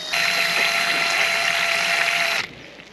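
Water is pumped into the 15-litre tank of a caravan toilet, a steady whirring rush with a faint tonal hum that runs for a couple of seconds, then cuts off abruptly.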